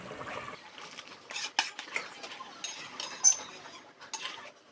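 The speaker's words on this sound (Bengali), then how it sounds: "ঝোলটা ফুটে গেছে এবার দিয়ে দেবো মুইঠাগুলো" Prawn dumplings being added to boiling gravy in a pan, with a spoon clinking and scraping against metal in quick, close bursts over a low, steady background hiss.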